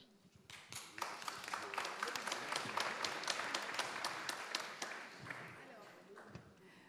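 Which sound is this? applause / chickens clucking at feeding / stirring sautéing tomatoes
applause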